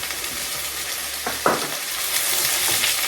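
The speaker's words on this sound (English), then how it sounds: "we're going to add our onions in now" Chopped onions hit a hot pan already searing beef for a chilli and garlic sauce, giving a loud, steady close-up sizzle with a brief clatter of stirring partway through.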